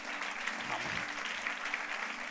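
A church congregation claps together at a revival service, a steady, fairly loud crackle of many hands that holds evenly, with a faint low voice or tone briefly underneath.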